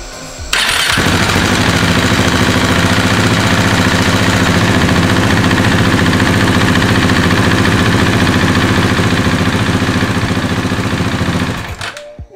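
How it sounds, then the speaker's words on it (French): A 2019 KTM 690 SMCR supermoto's single-cylinder engine fires up after a brief crank and settles into a loud, steady idle close by, then shuts off near the end. "On va pouvoir une fois démarrer le moteur."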